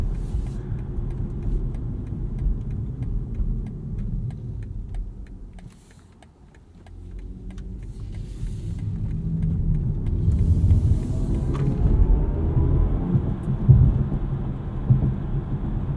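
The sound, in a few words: electric car acceleration sound, sport mode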